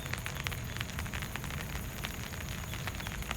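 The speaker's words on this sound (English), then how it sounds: "It's raining today." Steady rainfall with a dense, continuous hiss and patter of drops hitting surfaces, fairly loud and close, with no talking.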